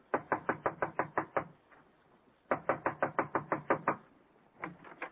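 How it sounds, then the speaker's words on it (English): Knocking on an apartment door as a 1940s radio comedy sound effect: two quick bursts of about eight sharp raps each, separated by a pause, then a third short burst starting, close and loud with no voices. "I'll knock on the door."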